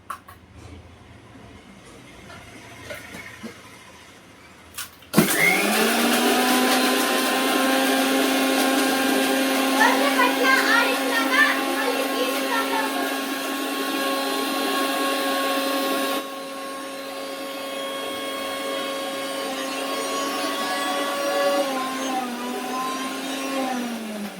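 A mixer grinder blends carrot juice with sugar and cardamom powder. After a few quiet seconds it starts abruptly into a loud, steady high-pitched whir that runs almost twenty seconds, shifting pitch slightly partway through.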